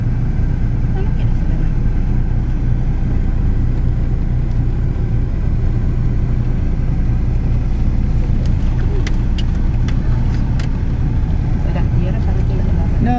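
Inside a car during a driving lesson, a steady, loud, low engine and road rumble runs throughout, with occasional talking over it.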